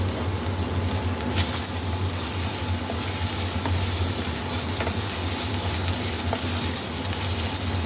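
Ginger-garlic paste fries in a pan for a chicken and bottle gourd curry, making a dense, even hiss of oil that holds steady and close without pause.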